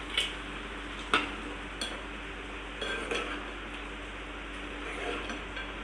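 Spoon stirring chicken curry in a metal pot at home, with a few sharp clinks and scrapes against the pot spaced irregularly over a quiet, steady background.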